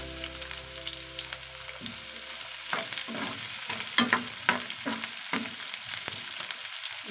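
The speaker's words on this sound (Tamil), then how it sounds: "நல்லா தாளித்து விட்டுக்கோங்க." Dried red chillies and finely chopped onion frying in a pan, with a steady sizzle and a run of scraping stir strokes that grow busier partway through.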